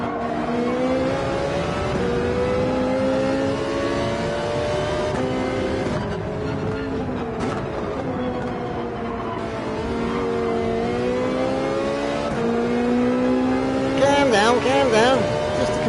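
A Ferrari in Gran Turismo 7 accelerates hard with a sustained, loud engine roar that climbs and shifts pitch across gear changes, with a voice talking over it throughout.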